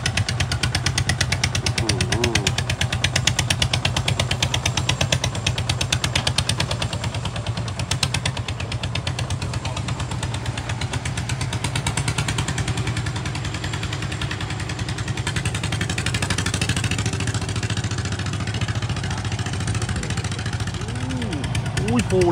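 A rice combine harvester's engine runs steadily in a paddy field, a loud continuous diesel drone with a rattling mechanical chatter throughout, while someone talks over it.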